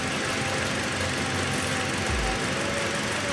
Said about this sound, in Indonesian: ini semua sudah rapi, sudah hidup mesinnya